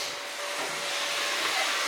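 A household vacuum cleaner runs steadily, a loud continuous whooshing drone with a faint tonal whine, close by and alone.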